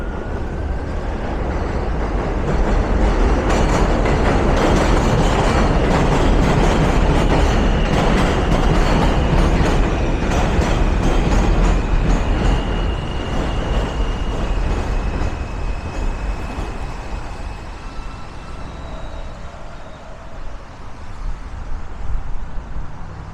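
An F line subway train rumbles past close by on an elevated trestle in Brooklyn, a loud sustained roar with clattering and screeching that builds, holds steady, then slowly fades into lighter street traffic noise.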